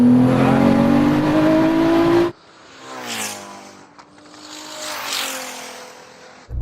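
A 3,000hp SUV drag racing a Ferrari SF90: a loud, close engine roar climbing in pitch for two seconds cuts off abruptly, then two more distant rising whooshes of the cars accelerating past.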